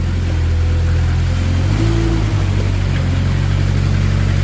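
A 2014 Moffett M55 truck-mounted forklift runs with a steady, close engine drone while its mast tilts, side-shifts and extends, the low hum shifting slightly in pitch partway through.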